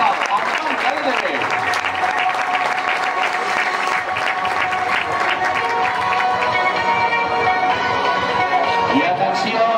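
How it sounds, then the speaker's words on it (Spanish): Applause and scattered cheers from a crowd at a sports club's season presentation for its cadet B youth team, steady and lively, with voices calling out over the clapping. "Aquest aplaudiment de nou pel cadet B"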